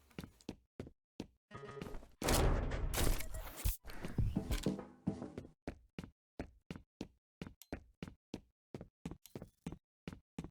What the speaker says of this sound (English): I do enjoy that I am actually getting a good opportunity to use the repeating cannon